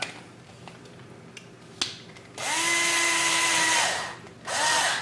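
A cordless power drill with a low battery bores straight through a rail in two bursts, a long whirring run followed by a short one after a pause, preceded by a few light clicks and taps.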